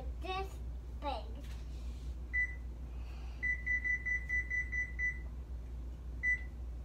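A kitchen timer being set for bread kneading gives several short electronic beeps and then a steady run of pulsed beeps, moderately close, while a child and an adult speak nearby in a quiet room.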